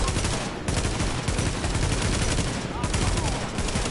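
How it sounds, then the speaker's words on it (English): Rapid, dense gunfire with explosive bullets rattles continuously in the video game The Division, loud and sustained, with a voice faintly mixed in. "I'm using explosive bullets on that son of a bitch!"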